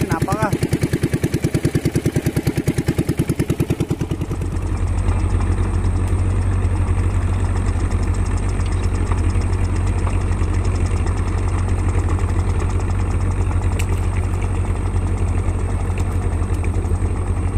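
A freshly repaired engine idles with a steady, deep rumble that shifts into a heavier, lower drone after about four seconds and then runs on continuously and loudly.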